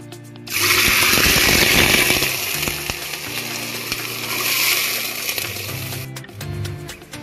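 Water poured into a hot pressure cooker over fried red chilli and cumin for aloo tahari gives a loud, steady hiss and rush that lasts several seconds, then eases and tails off.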